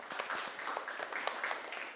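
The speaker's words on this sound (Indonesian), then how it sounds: "kita kasih aplaus dulu untuk kelompok 2" A classroom of students claps for a group that has just presented, a brief burst of lively, close applause with no speech over it.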